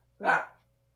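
A single short dog bark rings out close and fairly loud, lasting under half a second, over a low steady background hum, with no talk.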